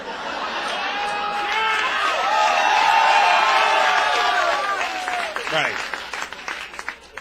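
A stand-up comedy crowd at a comedian's show cheers, whoops and applauds in a dense swell that peaks midway and then thins into scattered claps and chatter, with a voice speaking briefly over it.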